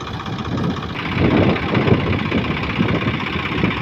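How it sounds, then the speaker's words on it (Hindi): A Swaraj 855 tractor on large Goodyear tyres runs a straw reaper (bhusa) machine, giving a close, loud, steady engine rumble with a rough knocking, threshing texture that swells slightly midway. No speech is heard. "ये भूसा मशीन रीपर देखिए चल रहा है"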